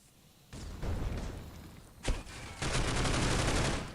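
Counter-Strike match gunfire: bursts of rapid automatic fire, a sharp single crack midway, then a sustained loud volley, close and dense over faint background game sound.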